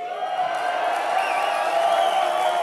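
Steady roar of a live crowd cheering at a power metal concert, a dense, continuous wash of voices and whoops filling the hall without breaks.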